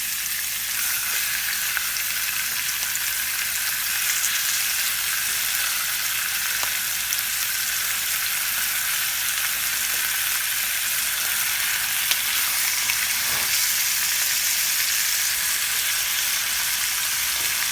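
Chicken flautas frying in oil in a skillet give a steady, even hiss and sizzle that runs without a break and with no voices, crackling faintly now and then.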